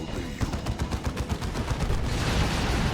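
A mortar shell barrage lands in Dawn of War 2, a rapid string of sharp, close explosive bursts giving way to a rolling roar of debris.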